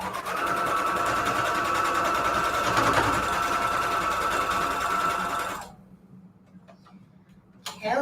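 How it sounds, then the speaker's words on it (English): Sewing machine stitching fabric scraps, a close, steady rapid ticking hum for several seconds before stopping, followed by quiet handling noises and a brief clatter. "Let's sew it from here to here."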